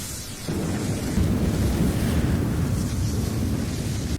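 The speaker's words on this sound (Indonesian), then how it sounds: "Untung si Jen pakai sisa tenaganya nangkap si Koki pas ledakan besar terjadi." A huge explosion in the sci-fi film Terraformars, a sustained, roaring blast rumble that swells after a brief moment and stays loud and dense to the end.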